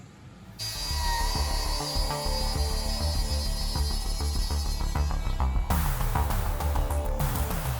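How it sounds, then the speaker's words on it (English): A loud, steady high-pitched router whine with a harsh cutting edge, running continuously and shifting tone partway through as it cuts a groove in wood on a Qix arcade cabinet. "we'll use the router to route it out"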